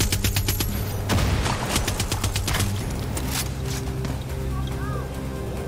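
Gunfire in Far Cry 6, with rapid bursts of shots over a steady game background in the first few seconds, then the shooting fades.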